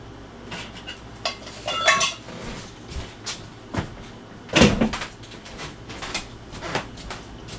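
Spoon scraping and clinking through a chicken and rice casserole with canned sliced carrots in a baking dish, a string of close, sharp clatters and scrapes with one louder knock midway, no talking.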